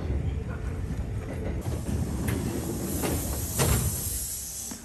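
Interior rumble and hiss of a Kintetsu train pulling into Kawachi-Yamamoto station in Osaka, a steady low roar with faint clunks and brake hiss, heard from inside the carriage.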